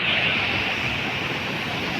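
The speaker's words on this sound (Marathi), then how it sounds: "छोटासा प्यारासा धबधबा काय विषय बाई पाणीच पाणी" A small waterfall rushes in a constant, even roar of flowing water, close and uninterrupted, in a natural setting.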